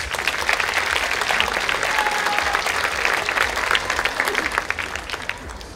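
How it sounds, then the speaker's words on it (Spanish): Sustained applause fills a fashion runway show at a university event, dense and steady clapping from a large audience throughout, with no talk over it. "un gran aplauso para cada uno de ustedes"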